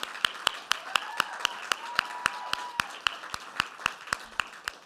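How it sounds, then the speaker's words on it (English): Sparse, steady clapping from a seated faculty award ceremony audience, individual claps evenly spaced and distinct, a thin round of applause with a faint tone sliding underneath. "Tara, please stand so we can give you a round of applause as well"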